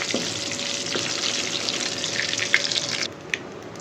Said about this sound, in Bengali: আর শুকনো মরিচটা একটু ভাজা ভাজা হয়ে গেলে তারপর দিয়ে দেবো রসুন ফোড়ন